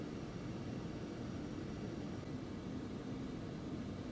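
An Embraer Phenom 300 business jet taxis in the X-Plane 11 flight simulator, its engines a low, even, continuous hum that holds steady throughout without voices.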